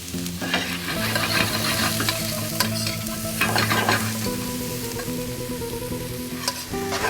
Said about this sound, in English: when my pan is hot I add a touch of olive oil and saute them together for around 5 minutes